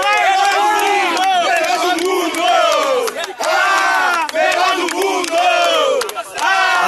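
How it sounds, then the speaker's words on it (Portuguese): Dense stadium crowd at a packed footvolley match chanting and roaring in sustained, rhythmic waves of massed voices, loud and continuous with only brief dips. "A torcida começa a se manifestar."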